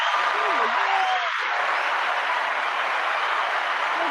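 A crowd applause sound effect plays as a steady, bright wash of clapping and cheering, briefly overlapped by a talking voice at the start.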